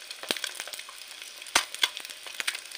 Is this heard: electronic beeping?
no